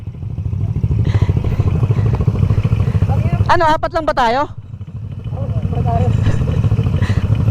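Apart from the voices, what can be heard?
motorcycle engine revving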